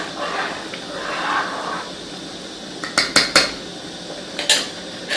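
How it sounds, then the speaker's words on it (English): Payasam is stirred in a thick-base pan, a soft bubbling hum broken midway by a few sharp metallic clinks of a spoon against the pan rim. "Make sure that you are using a thick base pan. Stir it continuously."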